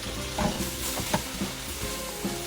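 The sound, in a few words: beef fajitas sizzling and being stirred in pan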